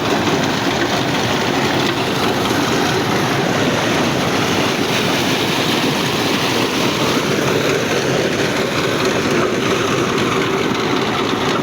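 A 2023 Massey Ferguson 385 tractor runs at normal RPM, pumping water through a 6-inch delivery pipe. A loud, steady engine rumble blends with rushing water for the whole stretch, with no voices.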